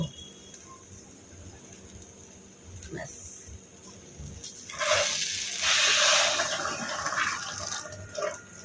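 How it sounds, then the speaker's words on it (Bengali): Water is poured into a cooking pot, a broad rushing splash rising midway and continuing for a few seconds before tapering, preceded by quiet kitchen background. "এখন এখানে পানি দিয়ে দিলাম"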